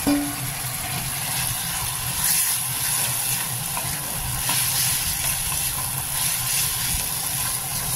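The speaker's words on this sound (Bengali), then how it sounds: "এখানে আমি সব ফুলকপি, আলু আর পনির সব দিয়ে ভালো করে একটু কষিয়ে নিলাম" Cauliflower, potato and paneer fry in a pan with a ginger, green chili, cumin, melon seed, cashew and raisin paste, giving a steady hiss and sizzle with small bursts of crackle and no talk.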